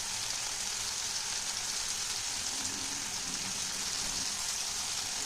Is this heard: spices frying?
yes